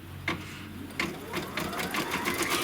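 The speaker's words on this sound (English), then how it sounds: "And then send that to the embroidery machine." An embroidery machine stitches out the placement line for quilt batting, its needle running in a fast, steady mechanical rhythm close by with no talking.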